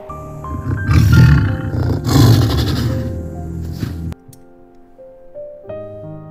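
A tiger gives two loud, deep, rumbling roars close up, one after the other, before the sound cuts to quieter sustained music.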